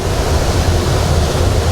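Rushing water of Hogenakkal waterfall, a loud, steady broadband roar heard up close with no voices.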